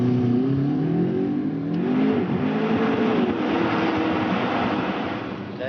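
A McLaren supercar engine revs on a runway, rising and falling in pitch with a loud, close, throaty roar that builds and holds before easing off near the end.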